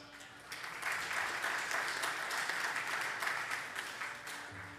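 A crowd at a Boulder County city council candidate forum breaks into steady, dense applause that swells after a quieter start and holds at full strength, with many hands clapping together.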